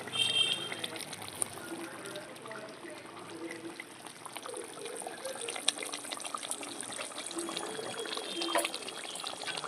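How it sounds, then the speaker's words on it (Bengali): Raw mustard oil is poured into a hilsa fish curry. A soft, steady liquid trickle and light bubbling run faintly and continuously throughout. "একটু কাঁচা সর্ষের তেল দিয়ে দিচ্ছি"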